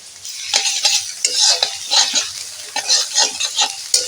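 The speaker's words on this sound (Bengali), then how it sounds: "রসুনটাকে বেশ এইভাবে ভেজে নেব" Garlic paste and chopped onion fry in a pan with a bright crackling sizzle, broken by repeated scraping stir strokes at an even pace, close and fairly loud.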